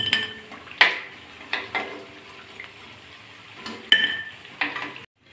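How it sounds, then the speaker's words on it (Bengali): Chicken pakora lifted one by one from hot frying oil onto a plate: a soft sizzle underneath, broken by several sharp scrapes and clinks of a utensil against the pan, then a sudden cut to quiet near the end. "আমি একটা একটা করে তেল ঝরিয়ে তুলে নিচ্ছি প্লেটে"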